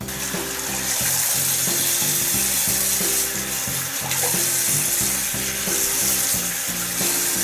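Running water spills steadily from a tap or shower while hair is being washed, a continuous broadband hiss and splash close by with no talk.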